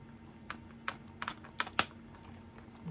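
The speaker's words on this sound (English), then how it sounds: "Sometimes you'll hear a click click because it's passing layer lines." A 3D-printed collapsible katana makes a series of small, faint plastic clicks as its blade slides past layer lines, about six irregular ticks over three seconds in a quiet room.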